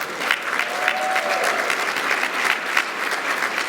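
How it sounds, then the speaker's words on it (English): An audience at a 2022 Merced County education awards event applauds an honoree, a school district custodian; steady, dense clapping from a sizable crowd fills the whole stretch without pause. "Yeah, we can clap for that."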